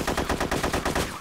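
Automatic gunfire from ARMA 2 with the DayZero mod, a rapid rhythmic burst of about ten close, loud shots packed into a little over a second, with no speech.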